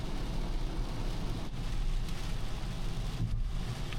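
Rain falls steadily outside a parked car during car camping in Madinah, a continuous soft hiss and patter on the bodywork heard from within, with no talking.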